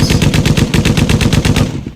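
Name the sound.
gunshot sound effect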